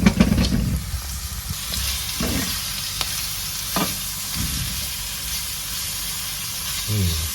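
Curry leaves hit a hot pan in a Sri Lankan crab curry kitchen, giving a steady frying sizzle and hiss with occasional stirring scrapes, fairly close and continuous throughout.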